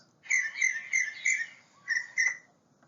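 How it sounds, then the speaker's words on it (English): Northern mockingbird singing a series of bright repeated chirps, four evenly spaced notes followed by two more after a short gap, clear and close with little background. "The northern mockingbird has a wide range of vocalizations"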